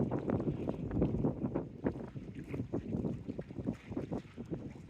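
Gusty wind buffets the microphone with rumbling, uneven bursts, close and continuous, at Polly Steps on the Teignmouth waterfront among moored boats, with faint water-side noise beneath.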